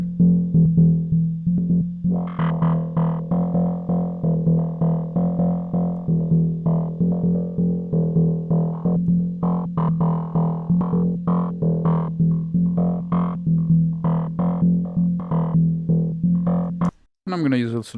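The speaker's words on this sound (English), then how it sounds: "Add a bit of distortion." Trancy synth lead line in Ableton with added distortion, a pulsing rhythmic sequence of gritty notes repeating steadily throughout, then a short burst at the end.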